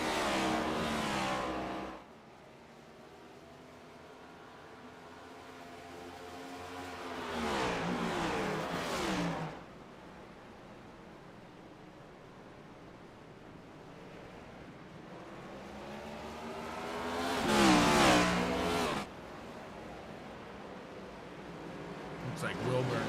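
Race cars in the NEXTGen series sweep past on an oval track in repeated waves, rising loud then receding, with an announcer talking throughout.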